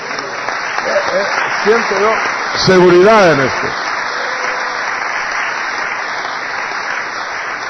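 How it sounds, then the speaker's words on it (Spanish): Church congregation applauds for a sustained stretch, a broad bed of clapping that persists throughout while a voice speaks briefly over it. "Démosle un aplauso al Señor."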